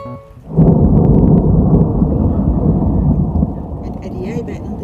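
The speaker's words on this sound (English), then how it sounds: "It's a thunder." Loud, close thunder breaks suddenly and rolls on as a heavy sustained rumble for several seconds before fading into the steady hiss of rain.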